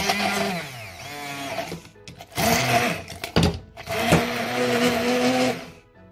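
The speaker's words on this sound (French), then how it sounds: "On va retirer les légumes pour les mixer." A blender purees cooked vegetables for a sauce, its motor whirring loudly in several bursts that rise and fall in pitch, with short pauses between runs.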